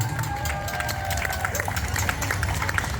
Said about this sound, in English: Give yourself a round of applause and each other.